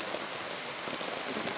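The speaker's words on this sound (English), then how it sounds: "here we can hear the rain starts pouring." Heavy rain pours steadily on an outdoor disc golf course in a Finnish summer, a dense, even hiss with close spattering drops and no voices.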